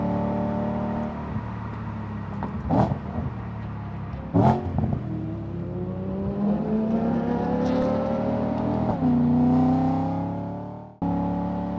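A BMW E92 M3 engine revs hard and climbs through the gears at the Nürburgring, its note rising and falling, with a couple of sharp pops along the way.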